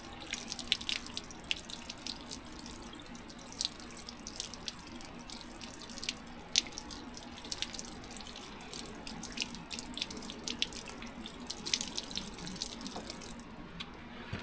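Meat is rinsed under a running tap outdoors while overlanding in the Ozarks, a steady faint stream of water with scattered splashes and drips and no talking.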